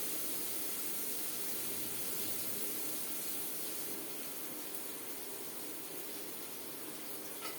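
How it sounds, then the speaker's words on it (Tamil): Large onions and dried turkey berries sauté in a pan with a steady, soft sizzling hiss that continues evenly throughout. "இப்போ இந்த வெங்காயம் வதங்குற வரைக்கும் வெயிட் பண்ணணும்"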